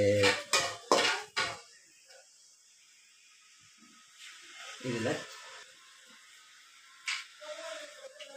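Metal utensils clatter and scrape in a pan as something is lightly sautéed, a burst of close clinks at the start and softer scraping later, with a voice talking in between.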